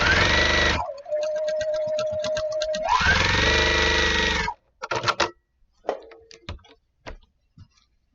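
Domestic sewing machine running fast and steady while stitching a quilt block seam, then slowing as it crosses a nested seam, followed by a few scattered clicks and handling noises.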